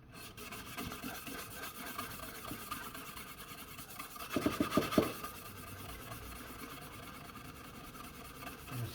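Wood is sanded by hand with steady, close rubbing and rasping strokes, faint overall, with a brief flurry of quicker scratchy strokes midway.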